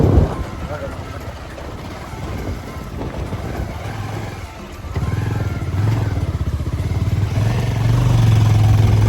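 A motorcycle labours up a steep, rocky, rough hill road near Tuti Hills, its engine note strained and climbing louder toward the end, with a rider talking over the clatter.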